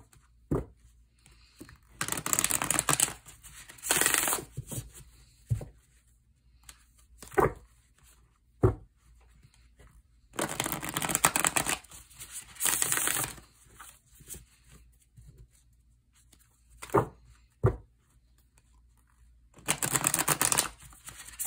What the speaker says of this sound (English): I do always shuffle my decks really good in between readings.